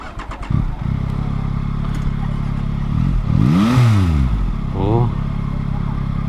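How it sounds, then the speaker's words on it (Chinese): A 2021 Yamaha MT-09 or MT-07 motorcycle engine idles and then revs in sharp rising-and-falling bursts during a test ride, fairly close and loud, with a rider's voice briefly audible at the start. "引擎声很熟悉，但是它变成是有这种立体声的效果啊。"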